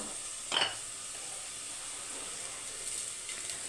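Onions softening with a little salt in a pan for a moong dal curry, giving a faint, steady frying hiss with a brief scrape of stirring early on.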